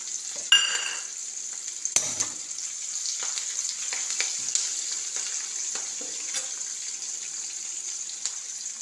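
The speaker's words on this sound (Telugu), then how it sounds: "జస్ట్ వన్ మినిట్ వేగిన తర్వాత కొంచెం కరివేపాకు వేయాలండి" Curry leaves frying in a pan for an ivy gourd stir-fry, a steady close sizzle and crackle with a few sharp spits and stirring clatters near the start, continuing alone throughout.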